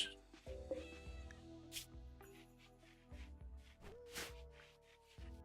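A cat meows several times in RimWorld, with drawn-out, wavering game cries set over a soft, steady background tone.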